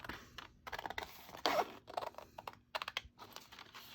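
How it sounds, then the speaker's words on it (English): Scissors cutting out a paper piece for a handmade beginner journal, a series of close, quiet crisp snips and rustles in short irregular bursts with pauses between. "all I do then is I just cut it out"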